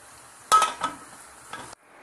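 A lid goes onto a pot of mutton dum biryani with a sharp metallic clank, a smaller knock just after and a lighter clink a moment later, close and crisp over a faint quiet background.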